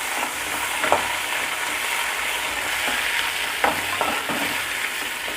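Coriander leaves sautéing in a pan for ven pongal, a steady close sizzle broken by a couple of sharp spatula scrapes against the metal, no voices.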